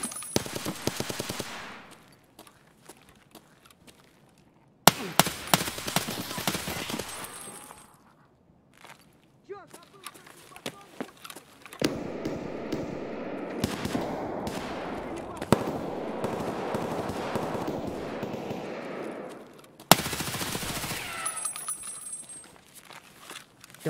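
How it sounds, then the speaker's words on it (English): Repeated bursts of gunfire in a firefight in Escape from Tarkov, loud sharp volleys alternating with quieter gaps and movement, shots coming in clusters throughout. "Exchanged fire repeatedly."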